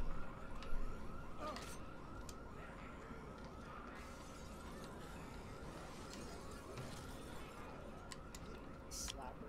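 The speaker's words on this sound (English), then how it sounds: "I didn't even know there were car alarms." A game car alarm in Dead Rising 3 cycles its warbling, repeating electronic siren steadily for several seconds, sitting under mixed game sounds and occasional crashes with a faint voice layered in.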